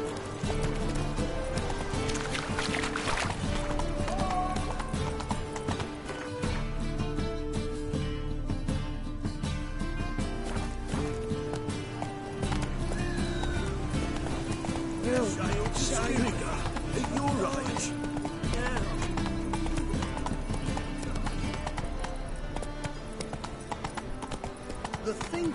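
Roach, Geralt's horse in The Witcher 3, gallops with rhythmic clip-clopping hooves beneath game music and occasional voices, its steady pace continuing throughout, with a possible brief whinny.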